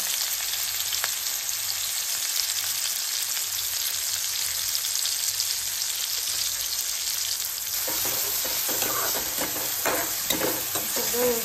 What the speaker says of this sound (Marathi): तर तेल तापलं त्याच्यामध्ये कांदा आणि मिरची घालायची.